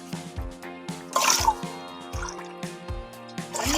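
Water is poured into a pot on a stove for cooking varagu millet, heard as several short splashing pours and drips close up, with no talking.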